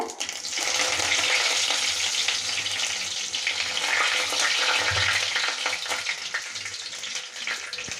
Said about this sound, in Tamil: கடுகு உளுத்தம்பருப்பு போட்டுக்கலாம்.